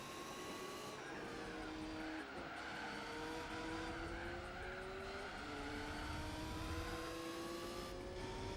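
Race car engines from Gran Turismo 4 in an All-Japan GT Championship race, a steady loud drone with rising and falling revs as gears shift, continuous throughout with no talking.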